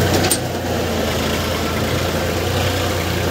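A combine harvester engine runs in low fourth gear with a steady, even mechanical drone that holds at a constant level, with no talking.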